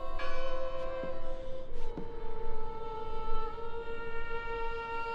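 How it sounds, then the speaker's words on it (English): A large bell in the horror video game Draugen tolls with a long, ringing tone and several lingering overtones, struck again partway through, alone and fairly loud. "I heard the bell."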